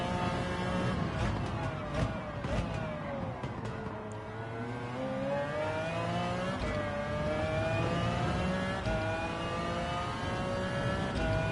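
Race car engine in Gran Turismo 7 revving steadily with rising and falling pitch, loud and continuous throughout, with no talk over it.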